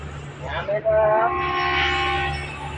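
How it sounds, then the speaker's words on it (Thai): A Thai express train, number 108, sounds a sustained horn as it departs Pak Nam Pho station, over a low rumbling diesel engine hum. "ขบวนรถเร็วที่108ออกด้วยครับ"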